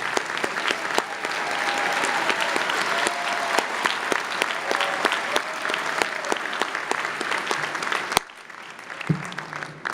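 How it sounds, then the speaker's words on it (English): Audience applause at an MBA commencement ceremony in a large hall, steady heavy clapping for about eight seconds that ends abruptly, followed by a brief quiet and the start of speech. "Okay, let's give everybody a round of applause."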